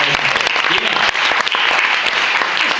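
Audience applause for contestants at a number-crunchers math competition grand champion round: loud, dense clapping from a crowd that holds steady for the whole stretch, with a few sharper individual claps standing out.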